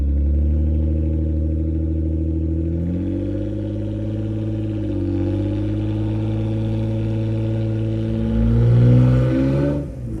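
A stuck Jeep's engine hums loudly and steadily, with its pitch shifting as the throttle changes and swelling into a brief rev near the end before dropping off.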